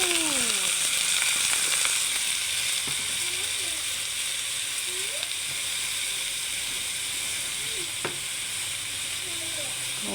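Sliced bottle gourd hitting browned meat in a hot pan gives a steady, loud sizzle and hiss, with a few spoon scrapes and clinks breaking through now and then.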